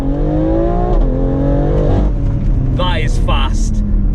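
BMW X3M launching hard from a standstill, the engine revving up through rising gear pulls with brief shift dips, loud and close, with a voice shouting over it.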